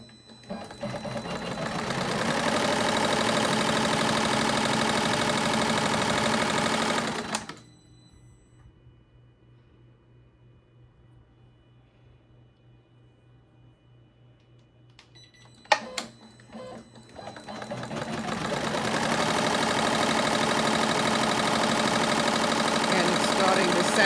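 An embroidery machine runs the tack-down outline stitch for an appliqué, a steady loud mechanical whir with rapid needle clatter. It stops for several seconds of near quiet broken by a few clicks, then starts running again.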